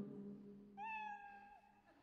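A single drawn-out cat meow, clear and close, following a low hum, then trailing off.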